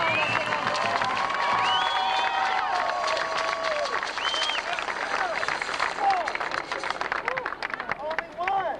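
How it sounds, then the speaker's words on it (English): Crowd applause and cheering at a 1997 state capitol march rally, with scattered whoops and whistles over steady clapping and background crowd chatter. "Please, Speaker, a big round of applause."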